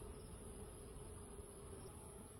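Honey bees hum at an open beehive while a beekeeper reinforces the colony with young bees, a faint, steady, continuous buzzing drone with no talk.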